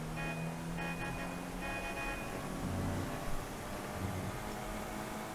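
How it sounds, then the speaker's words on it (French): Short repeated car horn toots sound early, under steady engine and road noise from a car in a GTA roleplay game. "Je viens de klaxonner devant la police"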